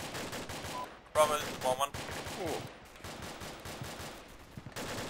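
Rapid gunfire bursts and machine-gun volleys in the military shooter ArmA II crackle across a wooded highway battle, interrupted by loud sharp bursts, while someone speaks over the radio throughout.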